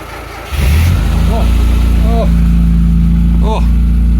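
A Rover 25 GTI or Austin Metro, woken after winter storage, starts up after a brief crank and settles into a loud, steady idle. Engine noise stays close and continuous, with faint chirps and knocks on top.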